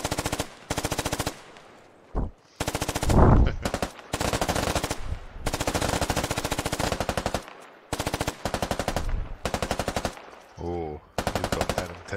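Video game machine-gun fire rips out in long, rapid bursts separated by short silences, loud and close, with a brief heavy blast in the middle and a voice speaking near the end.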